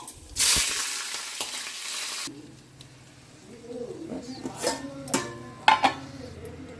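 Lentils and green chillies hit hot oil in a tempering pan with a sudden loud sizzle that fades after a couple of seconds, followed by quieter sputtering and stirring as pigeons coo nearby.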